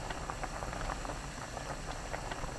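An uncovered pot of doenjang rice cake soup simmers with a faint, steady bubbling hiss.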